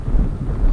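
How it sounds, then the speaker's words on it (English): Wind buffeting a microphone outdoors on an overcast afternoon by an urban fishing spot, a brief low rumbling gust that covers the whole moment. "As you can probably hear in the audio, it's pretty windy today too"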